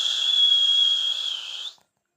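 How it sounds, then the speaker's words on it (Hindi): A special whistle gives one sustained, shrill, steady tone for nearly two seconds, then cuts off sharply, leaving silence. It plays alone as a sound effect in a Hindi audio drama. "टमटा ने विशेष सीटी बजाई"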